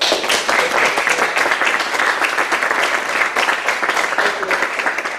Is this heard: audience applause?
yes